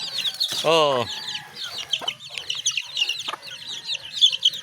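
Hungry chicks and chickens chirping and clucking at feeding time, a dense chorus of high peeping with a loud rooster crow near the start and scattered close clucks throughout.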